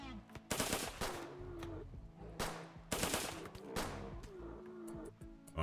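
Gunfire in the video game Rimworld comes in two quick bursts of rapid shots, loud and close, separated by a short pause, with faint game sounds between.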